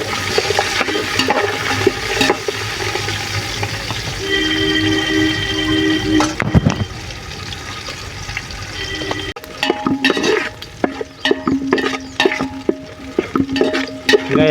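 Small country onions frying in oil for Andhra-style chicken curry, a steady sizzling hiss that shifts to choppier stirring and scraping in the pan partway through, close and fairly loud with no talking.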